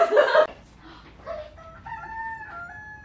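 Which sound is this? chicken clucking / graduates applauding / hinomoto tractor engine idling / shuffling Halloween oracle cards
chicken clucking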